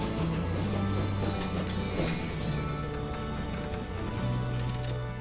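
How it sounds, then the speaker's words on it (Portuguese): Train in the game Transport Fever pulling into a station, a steady loud rumble of rail noise with wheel squeal and a high metallic whine throughout, no talking. "Olha aí o trenzinho já chegando"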